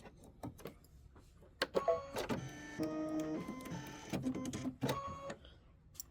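Computerized machine embroidery stitching a table top display piece, a steady mechanical whir with rapid rhythmic needle tapping and tonal hum, fairly close and continuous, with brief clicks and pauses.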